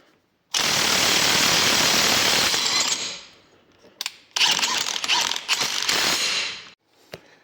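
A Ryobi RIWH 18X One+ HP 1600 Nm cordless impact wrench running in mode 2 hammers loudly and close up for about two and a half seconds, then fires in several shorter, choppy bursts and a final brief blip.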